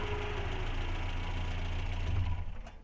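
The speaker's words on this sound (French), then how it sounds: "Le ventilateur vient de se mettre en route." A Renault 4L engine idles with its radiator cooling fan running, a steady low mechanical hum and whirring fan holding near and constant, with no talk over it.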